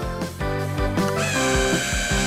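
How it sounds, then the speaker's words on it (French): Power drill whirring into a whole coconut in an animated scene, a steady tonal machine whine that holds for a couple of seconds with small shifts in pitch, with no talk. "Une perceuse devrait l'aider."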